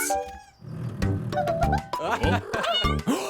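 Cartoon kitten at a construction site gives a few high, wavering meows between cheerful narration and other voices, with the mews rising over the talk near the start and end.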